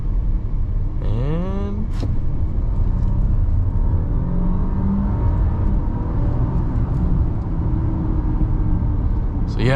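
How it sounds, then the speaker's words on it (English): A 2022 Audi A6 55 Premium Plus accelerates hard uphill under full throttle, its engine note rising steadily through the clip as the dual-clutch transmission shifts quickly, with steady road and cabin noise throughout and a brief spoken word near the start. "I'll sort of mash the throttle and see how fast the transmission reacts, and see how fast we can get up to speed."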